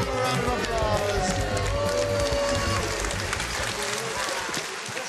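A studio audience on an Irish TV dating show keeps up a loud, dense round of applause and cheering for about five seconds, with a host's voice partly over it.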